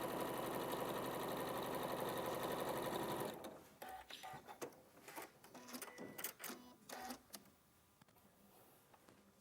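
Sewing machine stitching a flat seam, a loud continuous close whirring hum for about three seconds, then stopping into scattered handling clicks and taps.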